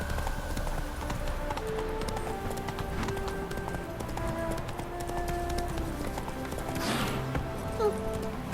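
Hooves of Roach the horse in The Witcher 3 clatter in a rapid gallop rhythm beneath steady game ambience, with a brief whinny or swish near the end.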